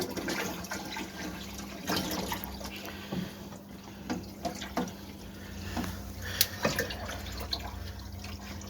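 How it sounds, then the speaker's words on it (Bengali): Aquarium water runs through a small pipe from an upper tank into a lower one, a soft steady trickle with occasional drips and splashes over a faint background hum. "এই ওপরের অ্যাকোরিয়াম থেকে জলটা আমি নিচের অ্যাকোরিয়ামে দিয়ে দিচ্ছি"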